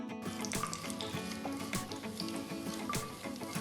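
Mustard and cumin seeds sizzle in hot oil in a wide kadai, a steady crackling hiss with small pops, close and alone with no voices.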